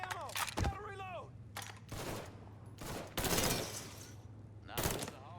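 Rapid bursts of gunfire in the Mafia 3 video game, loud cracking volleys coming in clusters with short gaps between them, mixed with shouts and game effects and a low steady hum underneath.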